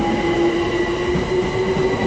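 A Class 378 Capital Star train pulls into Sydenham station, a steady, loud rumble and hum of wheels and motors rolling close by without letting up.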